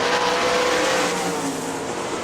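A 410 sprint car races past at Hartford Speedway, a loud, close engine howl that is strongest at first and then fades slightly as the car moves on.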